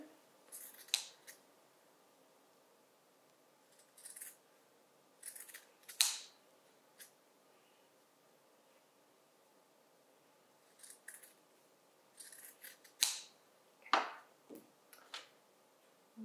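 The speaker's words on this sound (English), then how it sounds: "you can clean up the edges here where you just cut" Scissors snip along the edges of scrap fabric while four catnip cat toys are sewn, producing scattered short crisp cuts in small clusters with quiet pauses between them. The snips are close and clear, and no one talks.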